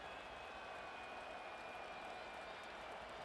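A dense, steady crowd roar fills an American football video game stadium as a team lines up for a two-point conversion and a possible win, holding loud and unbroken throughout with no clear voices on top.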